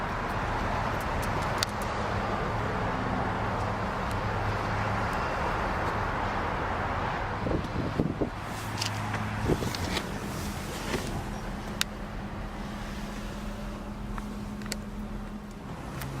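A red Dodge Viper with a six-speed manual sits idling, its engine a steady, loud, dense rumble that holds evenly throughout, with a few faint clicks over the drone and no talk.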